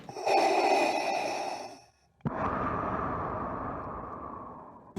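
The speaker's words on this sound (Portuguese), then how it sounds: "A respiração de Darth Vader" Darth Vader's mechanical respirator breathing from the Obi-Wan Kenobi teaser: one long rasping inhale, a brief pause, then a long hissing exhale, close and loud with no other sound.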